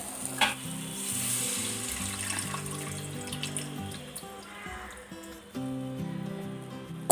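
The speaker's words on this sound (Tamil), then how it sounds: "அடுத்தது இதில் புளி தண்ணி சேர்த்துக்கோங்க" Tamarind water is poured into a sizzling tomato base for an okra tamarind curry, a loud hiss of frying and liquid running steadily for several seconds over soft background music.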